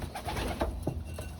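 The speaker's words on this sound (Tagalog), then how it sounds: "So yun mga kalapatids, pinakain ko muna nga tong dumating natin." Racing pigeons coo softly in a series of low throaty calls, fairly faint against a background hum, with no one speaking.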